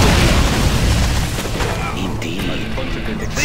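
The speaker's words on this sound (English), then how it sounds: "Need a quick mortar strike." Mortar strike explosions in the real-time strategy game Command & Conquer Generals, loud booming blasts and rumbling bursts that fill the mix and gradually thin out.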